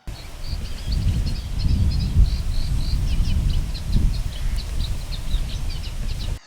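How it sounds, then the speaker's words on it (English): A reed warbler sings a rapid, repetitive chattering song in the distance, steady throughout, over a low rumble of wind and rustling. "got a little bit of footage of a reed warbler"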